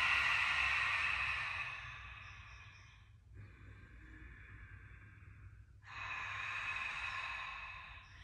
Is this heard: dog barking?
no